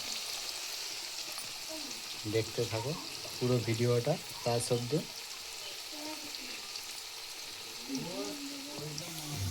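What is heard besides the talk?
onions and garlic frying in a pan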